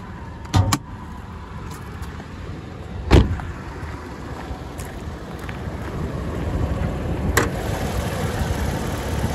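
A Toyota 4Runner Trail Edition 4WD with a 4.0 liter engine idles steadily under the open hood, a low continuous hum broken by a couple of sharp clicks and knocks nearby.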